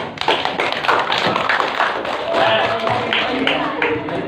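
Students in an Islamic cultural history class clap after finishing a group discussion, giving uneven, scattered claps with some thumps and murmuring voices mixed in.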